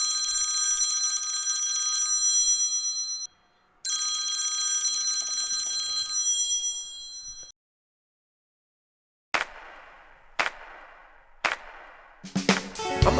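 A desk telephone rings in two long bright metallic bursts separated by a brief pause, then falls silent before several sharp clattering knocks and bangs follow.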